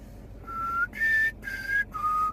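A person whistles four short sustained notes with brief pauses between them, clear and close, with no talking.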